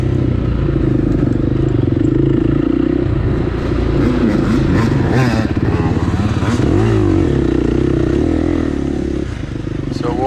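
Several dirt bikes, among them a blue Yamaha, roar off the line together at a District 14 AMA hare scramble at Dutch Sports Park, engines revving and rising in pitch, loud and close, with a voice talking over the engine noise.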